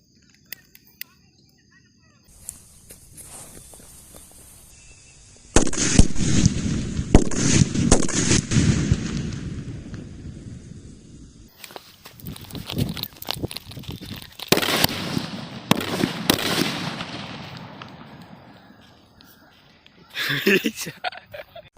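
Diwali firecracker bombs go off in a close, loud string of sharp bangs and crackling bursts, several clusters separated by short pauses, with people talking between the blasts.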